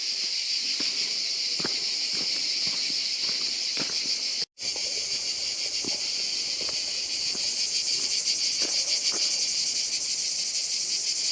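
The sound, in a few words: cicadas chirping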